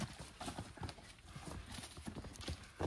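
Draft horses walking on a logging job in the morning, their hooves clip-clopping in a quick uneven rhythm at close range, with a brief whinny and faint talk in the background.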